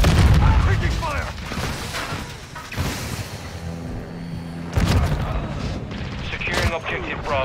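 Gunfire and explosions fill a military video game match, heavy booming shots and rattling bursts at close range with a radio voice speaking over the action.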